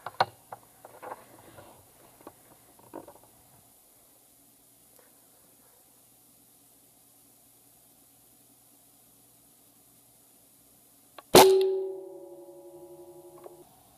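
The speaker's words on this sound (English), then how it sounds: "I'm going to take the first shot at it once again with the Benjamin Discovery hollow points" A single sharp crack from a .22 Benjamin Discovery air rifle firing a hollow-point pellet at a pane of tempered glass, followed by a ringing metallic tone that decays, after a long near-silent stretch with faint earlier clicks.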